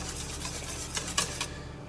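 French toast egg mixture is stirred briefly in a dish, a soft continuous scraping swish with a couple of light clinks near the end, close and moderately loud.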